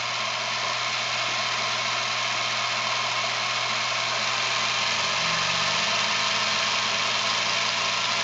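A Topaz engine runs steadily on its first start, a loud continuous drone with a constant low hum throughout and no speech.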